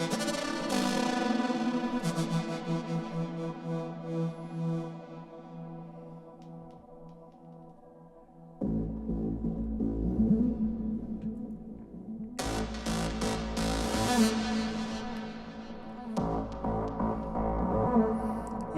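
Melodic techno synth shaped by an LFO, with delay and Valhalla VintageVerb reverb, a sustained tonal pad that drops in and out, then returns with a fuller mix of sweeping tones and beats, no voices.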